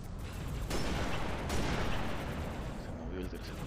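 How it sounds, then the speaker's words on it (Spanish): Gunfire in Halo Reach during a campaign mission, dense blasts and rumbling shots layered into a loud, sustained barrage with a couple of sharper bursts. "¡Tres disparos! ¡Vato, tres disparos para matarlo!"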